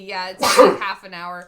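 A single sharp sneeze bursts out between bits of casual speech from a person talking close to the microphone.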